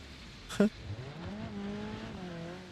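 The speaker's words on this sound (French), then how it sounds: "Le moteur marche encore, les mecs." Gendarmerie car engine running in the BeamNG driving game after a big ramp jump: a sharp knock near the start, then a steady low idle hum with faint harmonics under quiet background.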